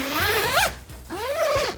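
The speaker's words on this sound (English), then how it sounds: "You just need to undo a zip." A long zipper is pulled open in two quick, rasping strokes with a brief pause between, close and clear.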